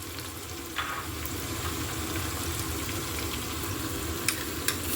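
Onion frying in a pan for a beef kabsa gives a steady, close hiss and crackle of hot oil, unbroken throughout, with a few faint clinks over it.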